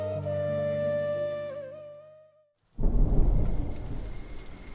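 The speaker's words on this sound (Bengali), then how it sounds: "কিছুক্ষণ আগেই আকাশ জুড়ে মেঘ জমেছিল, এখন বৃষ্টি হয়ে ঝরছে।" On a rainy monsoon evening, a sustained musical chord fades to brief silence, then a dense downpour of heavy rain with deep rumbling thunder rolls in loud and close, with no voices.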